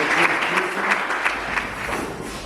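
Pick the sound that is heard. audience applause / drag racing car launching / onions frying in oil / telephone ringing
audience applause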